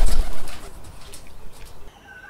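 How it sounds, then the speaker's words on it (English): Pigeons and other birds in an animated cartoon flutter off together, a brief burst of wingbeats and cooing at the start that thins out, followed by faint high chirps near the end. "Other birds got scared and flew away."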